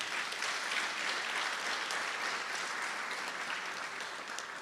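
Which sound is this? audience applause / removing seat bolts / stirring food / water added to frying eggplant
audience applause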